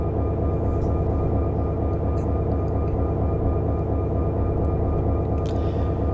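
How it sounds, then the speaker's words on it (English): A double-stack container train passing eastbound on a main line in the Run 8 train simulator, heard as a steady loud low rumble with rhythmic wheel clatter, continuous throughout. "Here comes a container train, stack train as they call them, heading eastbound on the main line"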